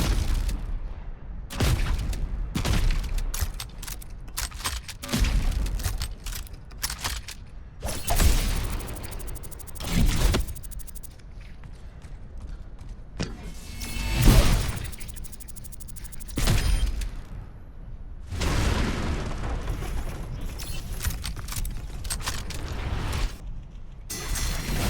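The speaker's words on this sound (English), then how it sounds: "I'm gonna play gunshot sound effects and ability sound effects." Junker Queen's gunshots and ability effects from the tank hero in Overwatch 2: a dense run of booming shotgun blasts, metallic mechanism clanks, whooshes and impacts in rapid, irregular bursts, loud and alone with no talk.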